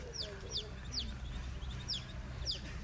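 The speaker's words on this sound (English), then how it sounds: "This baby chicken was confused and thought it was a duck." Baby chicken peeping in a quick series of high, thin chirps at a steady rhythm, faint over low background rumble.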